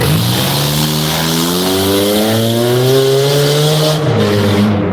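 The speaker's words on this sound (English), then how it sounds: "Yo, that nigga got a scat pack on a Honda." A Honda car fitted with a Scat Pack engine races, a loud, sustained engine tone rising steadily in pitch with tire squeal mixed in, then briefly dropping off near the end.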